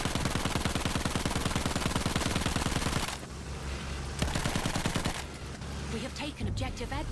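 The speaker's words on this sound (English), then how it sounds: "Oh shit, we're being shot." Rapid automatic gunfire rattles loud and close in the World War I shooter Battlefield 1, with bursts breaking off and resuming amid other battle noise.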